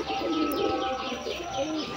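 A Giribaz pigeon coos nearby, soft repeated throaty calls with a few faint chirps around them, fairly quiet and without speech.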